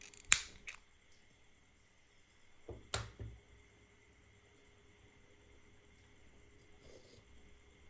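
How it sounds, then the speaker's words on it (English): Scissors snip through crochet yarn at the end of a sun hat, a sharp close snip near the start and another a few seconds later, with quiet pauses between and no talk. "Cut the yarn and leave the loop."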